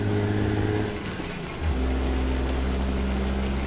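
Heavy truck engine in American Truck Simulator droning and revving up as it accelerates, a steady low rumble that dips briefly and then climbs again, with a faint high whine above it.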